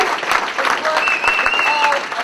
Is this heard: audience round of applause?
yes